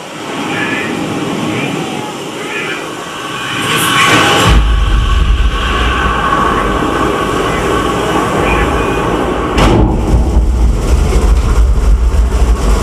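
A loud, continuous deep rumble and roar fills a rocket launch simulator ride at a space center, swelling further partway through, with a few brief clanks over it.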